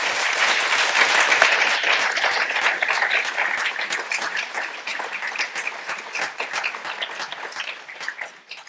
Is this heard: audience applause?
yes